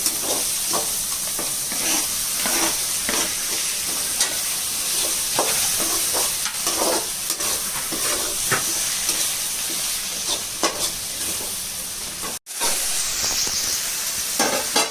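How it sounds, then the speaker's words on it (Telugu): Tomato pieces frying in a pan for a Rayalaseema-style mutton curry, with a continuous loud sizzle and hiss cut by regular scraping stirs, briefly dropping out for a moment near the end. "టమాటా అవన్నీ బాగా ఫ్రై అయ్యాక టమాటా ముక్కలు ఫ్రై చేసుకోవాలి"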